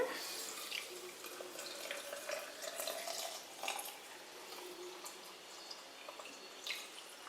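Water trickling and splashing steadily into a jar of pickles, faint and close, with small irregular drips and gurgles over several seconds.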